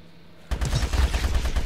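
Weapon fire in the video game GRAV bursts in after a brief quiet moment, a loud, dense rapid volley that continues steadily to the end.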